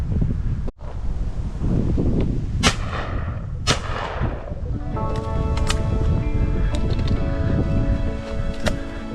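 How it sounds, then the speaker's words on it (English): Shotgun shots fired while pigeon decoying over farm crops, two sharp reports close together early on, followed by ringing tail and steady wind noise buffeting the microphone outdoors. "Right, last shot of the day, that'll have to do."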